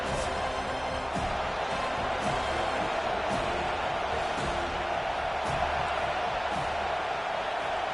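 A stadium crowd in a college football video game, Florida Gators versus Florida State, roars steadily throughout with scattered whoops and faint thuds, and a commentator's voice sits underneath.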